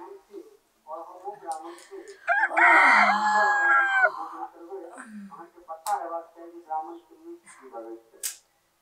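A loud rooster-like crow rises and holds mid-clip, with people talking before and after it; the crow may be a voice imitating it.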